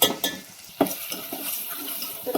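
Cumin, garlic-coconut-coriander masala, bay leaf and cinnamon dropped into hot oil in a pan, with soft sizzling and a few sharp clinks of a utensil stirring against the pan, brief and close.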